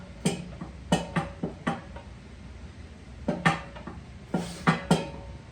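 A metal aftermarket oil pan is set onto an LS engine block in a garage, making several light, sharp metallic clanks and taps in small clusters, close and fairly quiet.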